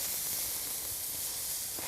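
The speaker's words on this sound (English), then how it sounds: "Now you want the shrimp to cook for a few minutes" Shrimp sizzling on a springtime grill, a steady close hiss of searing with faint crackles throughout, no voices.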